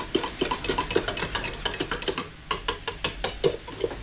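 Rapid rhythmic clinking of a whisk against a bowl while whisking eggnog, quick metallic taps close up with a brief pause midway before resuming.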